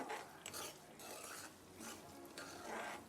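Semolina roasting in a pan with cardamom powder for mango almond sheera, stirred steadily, giving soft repeated scraping and gentle sizzle close by, with periodic surges of louder strokes and no talking.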